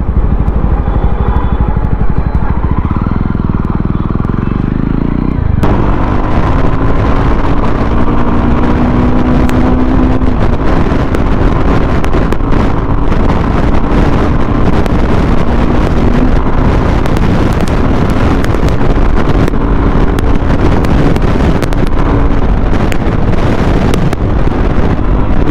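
A Jawa 300 motorcycle at high speed, its engine drone buried under heavy, constant wind rush across the microphone, loud and unbroken throughout with a shift in tone early on.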